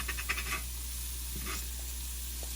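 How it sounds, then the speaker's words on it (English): Hot dogs cut into pieces fry in a cast iron pan, giving a quiet, steady sizzle with a few sharper crackles near the start and soft scraping or stirring sounds. "So Josie puts this all in a cast iron pan and cuts up her little hot dogs."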